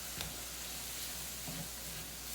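Taco meat made with pork and a tomato product sizzles steadily in a pan as it is stirred, a continuous soft hiss with faint scraping, heard alone.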